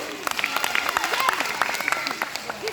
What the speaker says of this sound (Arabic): صفقوا على هاد الوليد